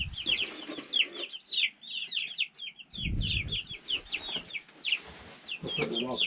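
Young two-week-old chicks cheep in a steady flurry of high, overlapping peeps as they are caught and moved to their coop, with occasional soft thumps and rustling close by.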